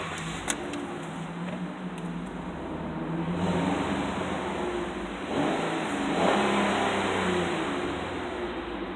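A 2013 Chrysler 200 with a six-cylinder engine running quietly at idle, a low steady hum that swells gently a couple of times, heard close with no talking.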